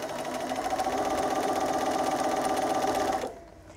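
A sewing machine chain-stitches quilt block pieces with a steady, fast mechanical whirr and rhythmic needle clatter, close and alone, stopping abruptly near the end.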